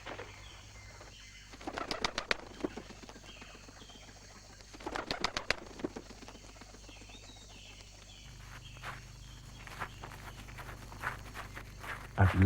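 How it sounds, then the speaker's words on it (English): A bird takes off with bursts of rapid wing flapping, close and loud in two clusters, followed by softer scattered rustling and faint cooing calls. "The Roly-Poly Bird gave a shriek of terror and shot straight up into the air"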